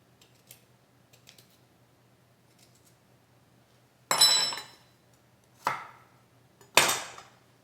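Fresh ginger root having its peel scraped off, heard as three short, bright rasping strokes spaced a second or so apart after a quiet start with a few faint clicks.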